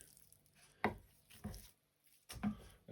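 An Elmax steel knife slices through two kilograms of raw meat and its membranes, giving three separate soft, close cutting strokes with quiet pauses between them.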